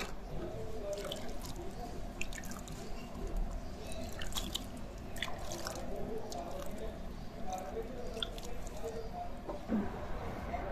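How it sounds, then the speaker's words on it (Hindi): Water trickles and drips steadily into the soil of a potted rain lily bulb, with soft squishy splashes continuing throughout at close range. "अब इसमें हम पानी देंगे।"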